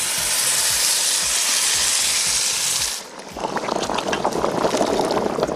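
Salted water poured into a pan of toasted vermicelli and rice for pilaf, starting with a loud, steady hiss that breaks after a few seconds into bubbling, crackling sizzle.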